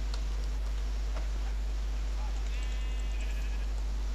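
Sheep bleat in the video game Minecraft, a few brief wavering calls over a steady low hum, with talk nearby.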